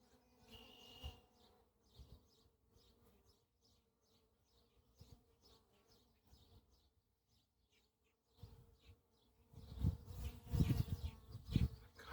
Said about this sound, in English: got one bee right underneath where I want to drop the frame